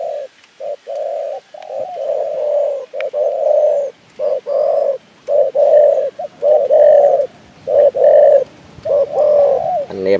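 A spotted dove coos repeatedly up close, loud, low rounded phrases in a regular series with short pauses between them, alone in a quiet setting.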